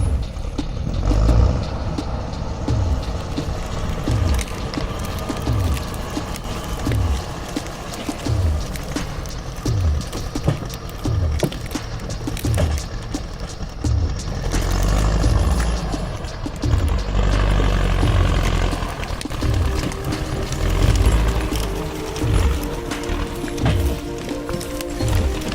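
A forestry skidder hauling a heavy load of timber across rough forest terrain, its engine droning steadily with rhythmic low thumps and clanks throughout, close and loud with no talk.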